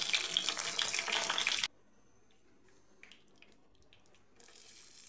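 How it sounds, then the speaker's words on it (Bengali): Cashews and raisins drop into a sizzling tempering of dried red chillies, cinnamon and bay leaves in hot mustard oil, giving a loud, steady crackling fry that suddenly drops to quiet, with a few small clinks and pops before the sizzle returns. "এই ফোড়নের মধ্যে কাজু কিশমিশ দিয়ে দিলাম"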